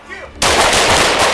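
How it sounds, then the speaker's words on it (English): Police officers firing guns at an armed suspect, a sudden loud burst of gunfire that erupts after a brief quieter moment and continues as sustained, echoing shots. "officers responded with gunfire"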